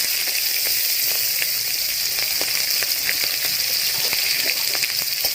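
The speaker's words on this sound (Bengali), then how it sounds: "পেঁয়াজ দিয়ে দিলাম" Sliced onions hit hot oil with spices and fry in a loud, continuous close sizzle, with faint occasional crackles and pops throughout.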